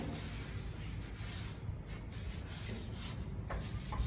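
Continuous rubbing as a light layer of oil is wiped over a new grill to season it, a close, even scrubbing sound with no talking.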